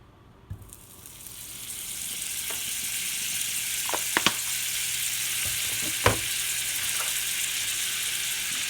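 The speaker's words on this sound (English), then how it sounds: "So with the pan on high, got 2 tablespoons of butter" Two tablespoons of butter melt in a pan on high heat, starting quiet and then settling into a steady, fairly soft sizzle, with a few sharp clinks of utensil against pan.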